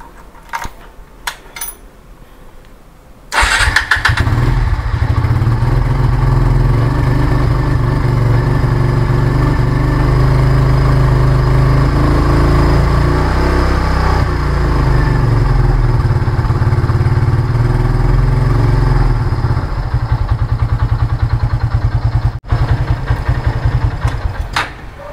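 A Kawasaki W175 motorcycle, just fitted with a new battery, cranks after a few faint clicks and fires up, then settles into a loud, steady close idle for about twenty seconds before cutting off.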